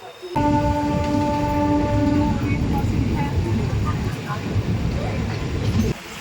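An express passenger train to Puri rumbles steadily along the tracks, close and loud, a horn sounding at the start before the roar continues.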